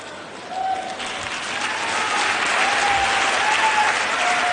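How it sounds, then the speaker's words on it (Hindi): An audience at a motivational talk breaks into sustained applause, a dense, steady clapping that swells slightly and holds for several seconds with no talk over it. "ताली बजा रहे हो, इसका मतलब सहमत हो,"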